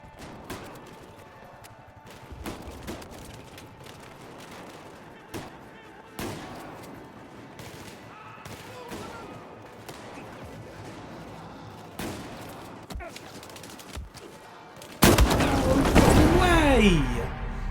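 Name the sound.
gunfire in video game Battlefield 4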